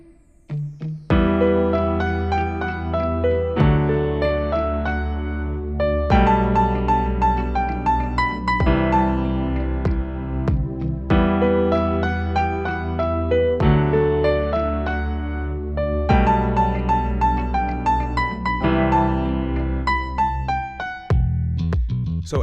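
A piano plays the pre-chorus of a song, with bright right-hand melody over rhythmic left-hand chords in repeated phrases, clear and close, without voices.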